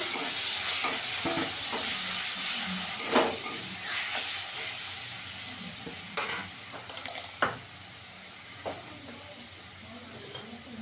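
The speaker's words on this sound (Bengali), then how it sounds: "এখানে টমেটো গ্রেট করে রেখেছি, একটা দিয়ে দেবো" Grated tomato goes into a pan of onions fried until reddish, bringing a steady hiss of sizzling oil with scattered scraping and stirring clicks, close up and fairly quiet, with no talking.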